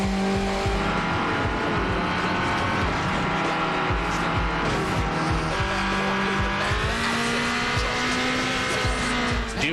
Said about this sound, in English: you can find yourself competing in what's called a drift race